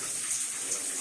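Water sprays hard from a leaking pipe joint on a hot water tank in a house with plumbing problems, a loud, constant hissing gush heard up close with no break.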